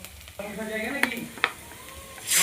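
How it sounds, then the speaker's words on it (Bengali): Chopped green chillies sizzle briefly in a pan for egg chowmein, with a steady fry, a couple of sharp utensil clicks and a rising hiss at the end. "লঙ্কা কুচি দিয়ে একটু ভেজে নেব। খুব কড়া করে ভাজার দরকার নাই, সামান্য করে ভেজে নিলেই হবে।"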